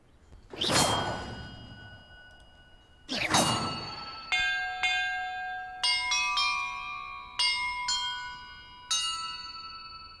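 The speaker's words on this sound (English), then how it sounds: "Perhaps the map contains clues about the order I'm supposed to ring the bells" Bells rung in Hogwarts Legacy: two whooshing swings are followed by five separate bell tones at different pitches, each struck alone and left to ring out, close and clear.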